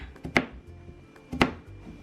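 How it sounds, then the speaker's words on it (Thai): Two distinct knife chops slice through stacked pumpkin slices on a board about a second apart, crisp and close, with quiet in between. "หั่นเป็นชิ้นยาวๆแบบนี้นะคะ"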